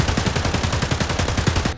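Full-auto AK-101 rifle fire in the video game Escape from Tarkov: a fast, evenly spaced stream of loud, close shots with no pauses.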